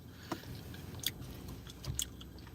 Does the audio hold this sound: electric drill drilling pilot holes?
no